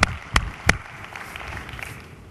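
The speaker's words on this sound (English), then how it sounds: "I'll clap to that." Three sharp, close claps ring out in quick succession during a speech at a healthcare association annual meeting, followed by faint scattered clapping from the audience.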